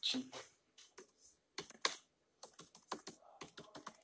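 Quick, faint bursts of clicking keystrokes on a computer keyboard come in uneven runs with short pauses, close and quiet in an otherwise still room.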